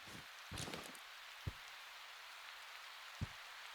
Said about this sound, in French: Ah, une grêle.